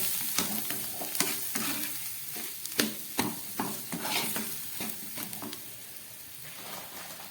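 Pea and chana dal paste fries in a pan while a spoon stirs it, giving steady close sizzling broken by frequent scraping strokes and clinks against the metal, with no one speaking.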